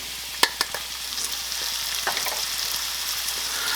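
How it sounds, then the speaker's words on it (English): Diced onion and minced garlic fry with mushroom stems in a pan, a soft continuous sizzle with a few sharp utensil clacks early on, then quieter stirring scrapes. "we are going to stir these around for a couple minutes until the onions start to get softened"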